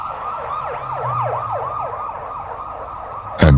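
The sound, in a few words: ambulance siren sound effect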